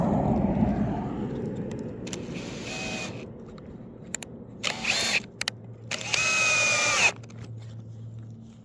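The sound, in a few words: power drill driving screws into model railway track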